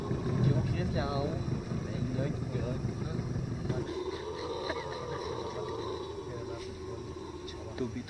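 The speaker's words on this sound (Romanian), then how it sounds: "Așa urlă maimuța urlătoare, ca un fel de porc." Red howler monkeys howl in the Ecuadorian jungle with a deep, rough, pig-like roaring drone that fills the first half and fades into a quieter rumble, with people talking over it.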